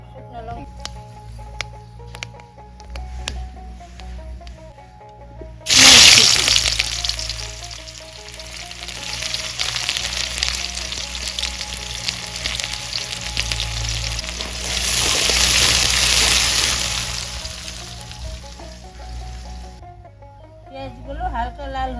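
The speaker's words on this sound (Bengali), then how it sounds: "এবার তেলের মধ্যে ফোড়ন দিয়ে দিই।" Dried chili and spices hit hot oil for a village-style banana flower dish, bursting into a loud, sudden sizzle that crackles steadily, swells again partway through, then cuts off abruptly, with quieter tonal background sounds before and after.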